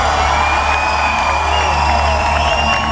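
A concert crowd screams and cheers hysterically, a dense, loud, continuous roar of shrieks and whoops that fills the whole stretch without pause.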